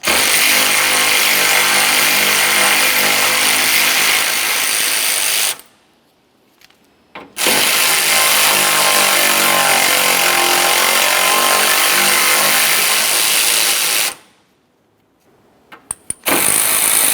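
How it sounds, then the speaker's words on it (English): A power tool removing 10mm bolts from the hood latch support bracket of a 2004-2006 Scion xB. It whirs loudly in two long continuous runs, separated by a silent gap and followed by a few short bursts. "To get this off of here, we're going to remove a few 10mm headed bolts."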